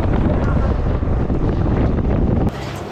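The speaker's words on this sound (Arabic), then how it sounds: "اسلم على الريح" Wind roars steadily against the microphone while riding a mountain bike up a mountain trail. The loud, continuous rumble drops off abruptly near the end.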